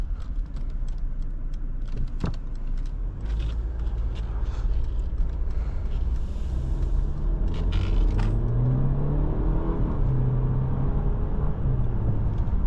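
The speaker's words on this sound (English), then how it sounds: "I'm gonna put it in sport mode so we can try a little acceleration once we make this right turn" A 2023 Mercedes-Benz GLE 350 accelerates in sport mode as the engine note climbs steadily from a low rumble to a firmer, rising drone, heard from inside the cabin without talk.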